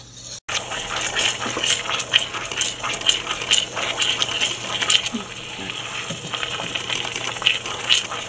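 Two teaspoons of agar agar in one and a half cups of water are stirred in a pot while it heats toward a boil for mango coconut jelly. Continuous close sloshing and swirling comes with frequent small clicks of the spoon.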